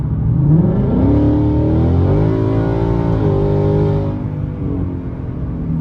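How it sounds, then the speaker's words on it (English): A 2019 Mustang GT V8 with a 10-speed automatic, loud and close, revs rising smoothly under throttle in tenth gear, pitch climbing steadily before easing off into a lower, quieter drone near the end. "This time I'm going to give it a little bit more gas to see if it drops to 5 or 4."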